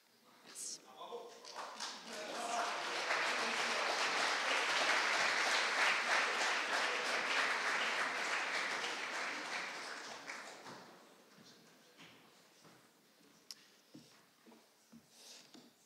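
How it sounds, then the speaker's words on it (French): A crowd bursts into applause that swells, holds strongly for several seconds, then thins out into scattered claps and murmurs. "Mesdames, Messieurs, on applaudit Willem Dudy à la caméra, s'il vous plaît."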